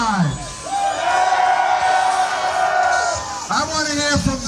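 A crowd at a diesel truck nationals event yells and whoops for T-shirts to be fired from a cannon. Voices swell into loud sustained shouting and cheering, dip, then rise again near the end.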